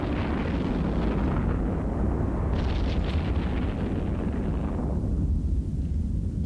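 Missile launches and explosions from the space game EVE Online make a loud, continuous roaring rumble, with a brighter crackling burst partway through before the sound thins and fades toward the end.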